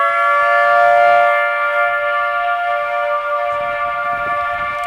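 A Federal Signal Mini 2T22 civil defense siren sounds its noon test, a loud steady multi-tone wail held throughout, with faint low rumbling underneath.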